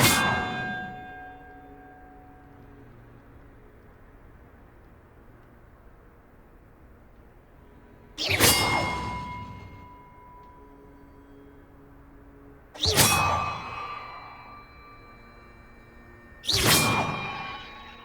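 Large bells in the Hogwarts Legacy game ring out one at a time, four loud struck clangs spaced seconds apart, each leaving a long shimmering decay with nothing else heard.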